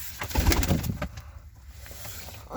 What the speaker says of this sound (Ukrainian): І ще голубка така.